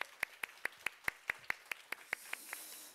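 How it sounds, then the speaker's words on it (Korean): A church congregation claps for a youth choir during a middle-school worship service, making a steady run of about a dozen crisp, evenly spaced claps that stay close and moderately loud. "여호수아 찬양대에게 박수하겠습니다"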